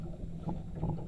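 Arneson Sanger cat boat with a gas turbine engine heading to Discovery Bay, California, giving a brief, low, muffled churn of engine and water with soft wind, faint and close, without talk.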